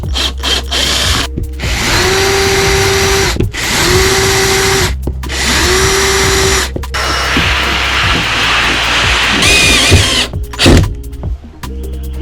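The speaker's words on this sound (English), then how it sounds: "So we are just gonna drill them in now a bit more" A power drill drives screws into a wooden van floor in three steady whirring bursts separated by short pauses, then works through a longer, more irregular stretch, close and loud with no talking.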